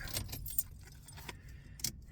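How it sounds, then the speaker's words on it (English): A parked car is switched off, with the metallic jingle of keys sounding in scattered bursts near the ignition. The clip is quiet overall, with a faint low rumble underneath. "let me shut my car off"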